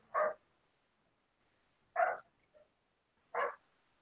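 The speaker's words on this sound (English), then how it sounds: "Somebody has a dog." Three sharp, separate barks from a dog at home sound a second or two apart over an otherwise quiet room, with a small yip after the second one.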